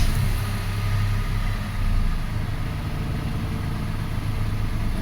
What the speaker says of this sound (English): this car should now start.